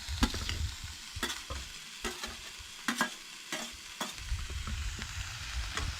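Chopped onion, tomato and ginger-garlic paste sizzle in a hot pan under a continuous fry, while a spoon stirs and scrapes through them in scattered, close strokes.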